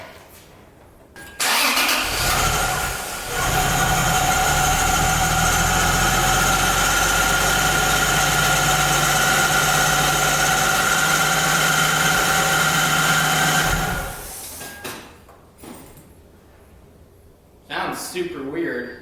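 A Lexus IS300 with a swapped-in 2JZ engine starts and settles into a loud, steady idle for about twelve seconds, then shuts off, followed by a brief mechanical clunk.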